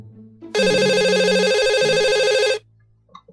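A telephone rings with one loud, steady electronic trill lasting about two seconds, then cuts off, with faint room noise before and after.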